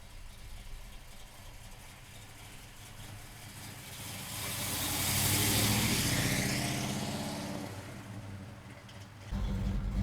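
A 1967 Chevrolet Chevelle's engine idles with a lumpy, choppy rhythm, loud and close. Its rumble swells in the middle before settling back to a steady idle.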